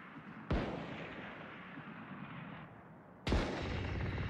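Two sharp gunshots from the video game Valorant, one near the start and another about three seconds later, each a loud crack with a long decaying tail.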